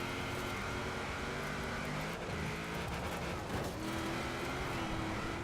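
A Mitsubishi Evo rally car races in the Forza Horizon 4 video game, its engine a steady, loud drone with continuous road and wind noise and small shifts in pitch.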